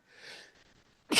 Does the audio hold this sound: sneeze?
yes